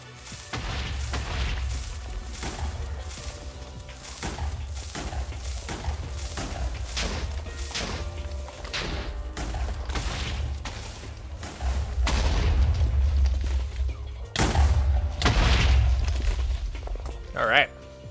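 Repeated booming blasts from lit explosive blocks tearing through dirt while hollowing out a lava-cast mountain in a block-building video game, a steady run of thuds with heavier bursts near the end, with people talking throughout.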